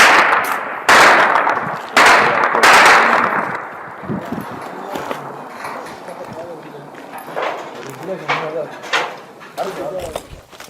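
Several loud, sharp gunshot cracks ring out close by in a Sudan war zone, followed by echoing reports and people talking and moving amid scattered bangs.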